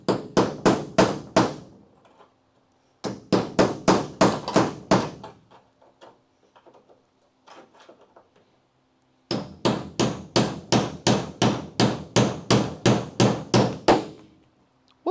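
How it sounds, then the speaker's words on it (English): Hammer blows punch out a weld on a Dodge Charger crew cab restoration, coming in three fast, loud runs of evenly spaced metallic strikes separated by short pauses with faint shop noise. "So we can just punch the weld out."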